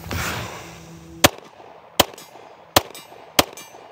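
Four sharp handgun shots fired one by one during a limited-ammunition shooting drill, spaced roughly a second apart, loud and close, each cracking out and decaying quickly after a brief stretch of rustling.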